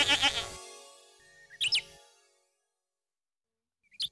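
Goats bleat on a hillside pasture near a small barn, a few wavering calls standing out clearly against a quiet background after a brief opening sound, with one last short bleat near the end.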